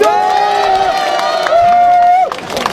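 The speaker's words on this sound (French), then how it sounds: "Alors, applaudissez pour vous-même." A crowd at a Guinean community rally in Belgium roars continuously, with sustained shrill whoops or ululating tones riding over the noise and little distinct clapping.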